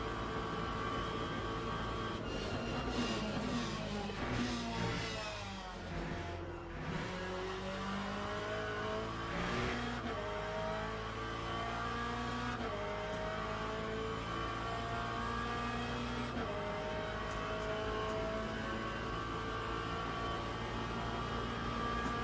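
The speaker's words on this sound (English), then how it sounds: "The engine sound went up, downshift is super harsh." A race car engine in a Le Mans racing video game revs loud and continuous, its pitch climbing and dropping through harsh downshifts, with no talk over it.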